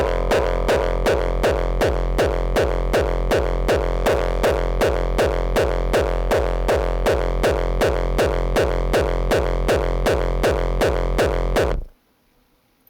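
A heavily distorted, growling rawstyle kick drum thumps in a fast, steady four-on-the-floor pattern, loud and relentless, then cuts out abruptly into near silence.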